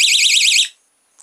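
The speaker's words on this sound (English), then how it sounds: "And that's the alarm." A small battery magnetic-switch alarm shrieks with a loud, warbling high-pitched siren as its switch is pulled away from the magnet, sounding alone for just over half a second before stopping, followed by a tiny blip.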